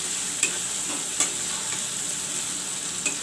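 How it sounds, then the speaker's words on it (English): Tomatoes and onion fry in a pan for a red gravy soyabean curry, with a steady, even sizzle and a few light stirring scrapes at intervals. No one speaks. "I will let the tomatoes also fry up along with the onion"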